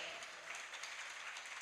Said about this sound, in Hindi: आवाज भी तो हमें सुनाई दे कि तालियां तुम्हारी बज रही हैं